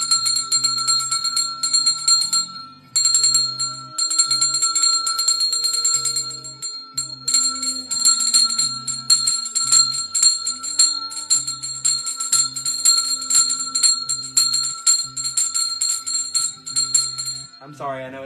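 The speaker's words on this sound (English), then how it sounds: "We've already used the big bell." A big bell is rung loudly at a live meditation session, its bright, sustained metallic tones shimmering and overlapping through repeated strokes before a sudden cutoff near the end.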